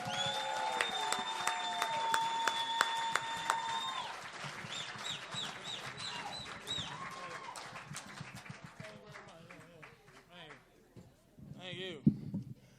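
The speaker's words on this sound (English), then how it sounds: "Put your hands together." A comedy club audience applauds and cheers as comedian Patrice O'Neal comes on stage, dense clapping that fades over several seconds and gives way to someone talking.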